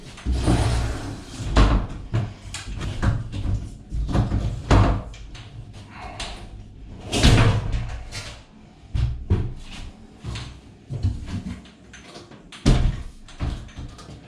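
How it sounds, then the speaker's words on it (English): A glass shower door is swung open and lifted off its wall profile, with repeated knocks, clunks and rattles of glass and metal at an uneven pace, close up. "it's just a case of swinging the door out and pulling it off the other wall profile"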